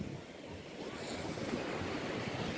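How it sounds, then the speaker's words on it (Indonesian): Surf waves wash continuously onto the wide white-sand shore of Berawa Beach in Canggu, Bali, a steady roar mixed with wind buffeting the microphone. "Dengan ombak yang sangat bagus dan cocok sekali untuk dibuat surfing."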